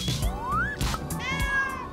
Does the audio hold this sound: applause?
no